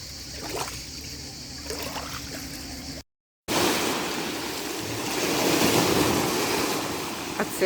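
Waves wash onto a wild, nearly deserted beach at Podgora, Croatia, a steady broadband surf roar mixed with wind buffeting the microphone, briefly cutting out before the surf returns louder and continuous.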